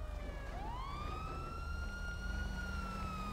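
A police car siren in the video game GTA 5 Online wails, its pitch sweeping sharply upward and then holding in a loud, sustained tone over a low, rumbling background.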